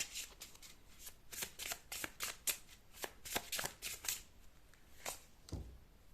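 Tarot cards shuffled by hand in quick riffling bursts, sharp papery flutters and snaps in an uneven rhythm, close and clear with no talking.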